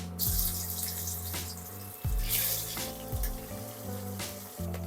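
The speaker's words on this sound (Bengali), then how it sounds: "মাছগুলোকে এরকম অল্প অল্প করেই ভেজে নিতে হবে" Bhetki fish pieces fry in small batches in hot oil in a wok, giving a bubbling sizzle that rises in bursts over a low, steady hum, with no speech.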